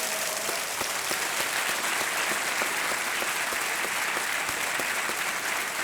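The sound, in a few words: audience applause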